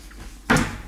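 A Kenwood microwave door in a holiday house kitchen opens with a single short, close click-thud after a quiet moment.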